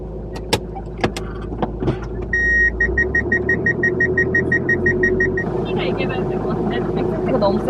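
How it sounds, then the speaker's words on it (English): A van pulls into a campsite with a rumbling engine, while a run of regular electronic beeps sounds for several seconds, with a few sharp knocks and background activity around it. "Another van?"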